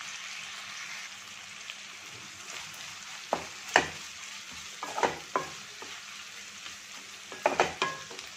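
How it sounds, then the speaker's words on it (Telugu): Tomatoes with a pinch of salt cook in oil in a pan for tomato bath, giving a steady soft sizzle with occasional stirring scrapes and sharper pops near the end. "టమాటాలు బాగా ఆయిల్లో మగ్గిపోవాలన్నమాట."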